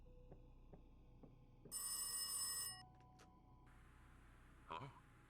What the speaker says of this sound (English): pick up the phone, which should be ringing in the hallway